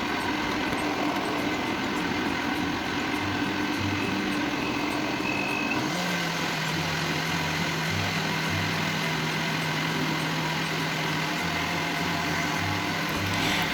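A blender grinds ginger with water, a loud, steady motor roar close by that shifts to a lower, heavier drone partway through and keeps running to the end.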